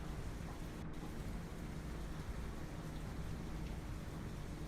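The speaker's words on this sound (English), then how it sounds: "we may have to wait to do the actual work if this rain doesn't stop" Rain pours in Farming Simulator 25, a steady, dense hiss of drops on the surface that holds constant and fairly soft, with no one talking.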